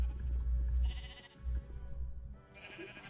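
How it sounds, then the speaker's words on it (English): Several sheep bleat in a Minecraft game world, calls overlapping and repeating at a moderate distance with a low background hum, no talking. "I hear a bunch of sheep."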